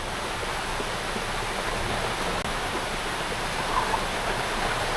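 Heavy rain pours steadily during a rainy outing, a dense, even wash of noise that runs without a break for the whole stretch and has no talk over it.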